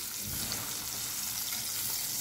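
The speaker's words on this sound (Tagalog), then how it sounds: "So, luto pa tayo ng ating isda." A steady, crackling sizzle of salmon frying in a hot pan, even and continuous with no voices.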